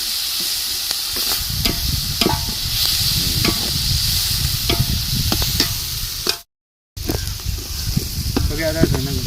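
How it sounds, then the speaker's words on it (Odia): Onions fry in oil in a pan, hissing and sizzling steadily with frequent clatters of stirring, while a voice talks over the cooking; the sound cuts out briefly near the end before resuming. "ପିଆଜ ପୁରା ପରଫେକ୍ଟ ଚରିଗଲା"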